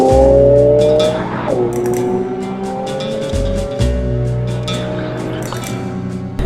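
An Infiniti Q60 Red Sport with 400 horsepower accelerates hard in Sport Plus mode, its engine note climbing through gears with audible shifts, loud and close from inside the car, with occasional clicks and ticks.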